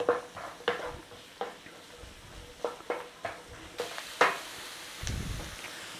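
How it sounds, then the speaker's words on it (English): Onions and garlic sauté in a pan with a soft, steady sizzle, punctuated by repeated scrapes and taps of a utensil stirring them, close by with no talking. "Start to stir fry this a little bit, sauteing the onions and the garlic"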